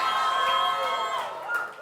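A church congregation at a worship service cheers and shouts together in a loud, continuous crowd roar with high whoops rising over it, sustained and then easing slightly.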